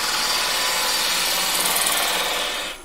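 A wood lathe cuts a cove into spinning wood, giving a steady, loud scraping hiss that holds evenly for most of the moment and then drops away near the end.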